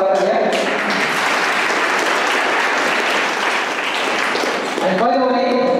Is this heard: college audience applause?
yes